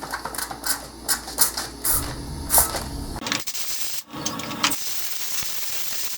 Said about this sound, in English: It's just a little bit of water in a squirt bottle that I'm spraying.